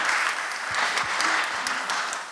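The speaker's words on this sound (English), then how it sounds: "so a bit of a round of applause for those guys." An audience at an eCommerce panel event claps steadily together, a moderate round of applause with no voices over it.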